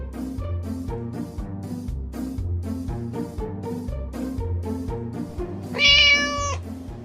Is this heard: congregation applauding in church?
no